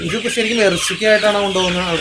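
Hens at a poultry farm cluck close by in rapid, overlapping calls with a rising, tonal quality, loud and continuous across a couple of seconds.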